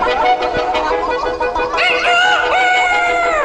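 A rooster crows loudly and close by, a long rising-and-falling call that stretches over the second half, with some clucking before it.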